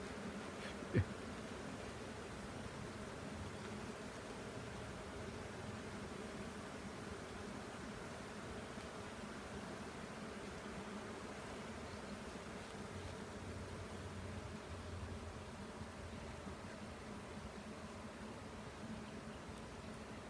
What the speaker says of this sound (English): the intensity, the vibration, if you will, is picked up quite a bit. Or a humming